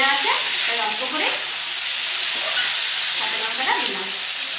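Green chillies fry in a pan for kumro shag, a pumpkin-greens dish, giving off a loud, steady sizzle with a broad hissing wash and occasional scraping stirs.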